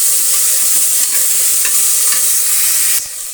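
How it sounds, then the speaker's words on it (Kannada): Finely chopped tomatoes fry for biryani in a hot pan, a loud, close, continuous sizzle with occasional stirring clinks, dropping slightly near the end, with no talking. "ಈಗ ಎರಡು ಟೊಮೆಟೊ ಸಣ್ಣದಾಗಿ ಹಚ್ಚಿಟ್ಕೊಂಡಿರುವಂಥದ್ದನ್ನು ಹಾಕ್ತಾಯಿದ್ದೀನಿ ಅದು ಒಂದು ಎರಡು ನಿಮಿಷ ಫ್ರೈ ಆಗಲಿ"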